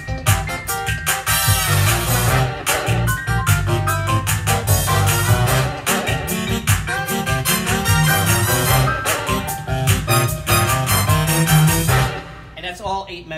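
A Korg PA1000 arranger keyboard plays a full backing style in its seventh-chord variation, with drums, bass and layered instruments loud and continuous before a brief tail at the end.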